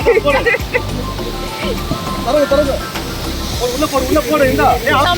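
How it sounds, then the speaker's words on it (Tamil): Water from the Hogenakkal waterfall pours down near a boat with a continuous roaring hiss, and voices talk excitedly over it. "அப்படியே மேல கொட்ட போகுது தண்ணி"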